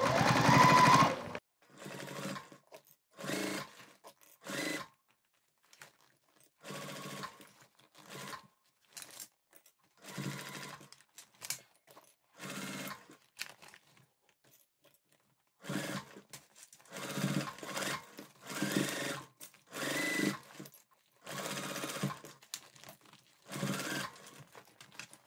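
A sewing machine stitches a shoulder bag's lining to its exterior in a run of short, close bursts with brief pauses between them, sounding alone and near.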